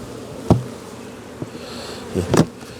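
Honey bees drone in a thick, constant buzz close up during a hive cutout, broken by a few dull knocks and thumps as frames are shaken.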